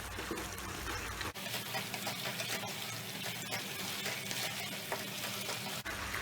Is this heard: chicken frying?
yes